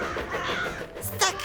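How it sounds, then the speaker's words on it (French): Cartoon crows caw noisily over a farm in a Thomas and Friends episode, with a couple of harsh caws rising near the end over a busy background bed. "il s'aperçoit que le ciel est rempli de corbeaux très bruyants"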